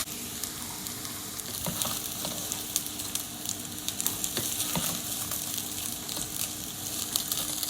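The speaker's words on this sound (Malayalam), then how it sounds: "നമ്മൾ കഴുകി വെച്ചിരിക്കുന്ന അരി അതിലേക്കിട്ട് ഫ്രൈ ചെയ്തെടുക്കണം" Washed rice frying and sizzling in hot ghee with spices in a pan for prawn biryani, with a steady close crackle and occasional stirring scrapes, no voices.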